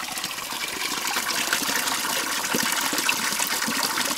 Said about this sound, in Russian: Слышу, что уже журчит водичка.